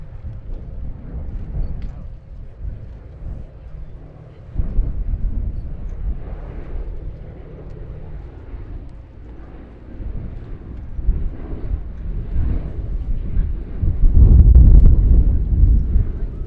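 The B-17G bomber Sally B flies at the Duxford Battle of Britain airshow, its piston engines a low, steady droning rumble mixed with wind buffeting on the microphone, swelling louder toward the end.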